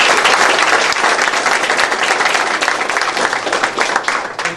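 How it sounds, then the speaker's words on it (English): Loud, dense applause from the crowd at a Glen Rose school board meeting for award recipients, a steady wash of many hands clapping close by for several seconds. "Let's give the recipients one more round of applause."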